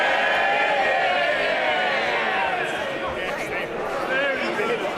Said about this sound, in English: They're cheering a majority of 18.